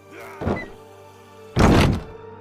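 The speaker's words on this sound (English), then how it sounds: "The door slams closed into its frame." A door slams shut into its wooden frame with a heavy, close thunk, preceded by a softer knock; it sounds alone with no voices.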